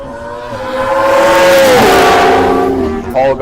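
Kawasaki ZX10 race motorcycle, an Ulster Grand Prix winner, parading at the Classic Bike Festival, its engine loud and close as it revs up, roars past with a falling pitch and pulls away.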